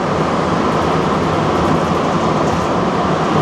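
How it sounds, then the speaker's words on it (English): Inside a Montreal Metro subway car, a dense, loud, steady roar of rubber-tired rolling and rushing air fills everything, unbroken and even, with no voices. "Seems a lot noisier than the Toronto subway, even inside the train."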